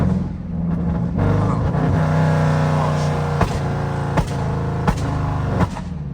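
A loud 5.7 Jeep engine roars and revs close by, rising and falling with sharp throttle blips, with a voice talking over it.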